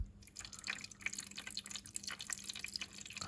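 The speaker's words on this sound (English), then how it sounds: "Let's pour some water down and see how the drainage layer will work." Water is poured into a tarantula enclosure over a drainage layer, producing a quiet, irregular patter of drips and trickles that continues steadily with no talk.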